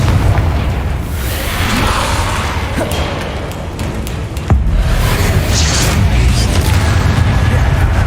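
Confringo and Incendio spell blasts in Hogwarts Legacy, a loud dense wash of booming explosions and fiery bursts with a sharp impact partway through.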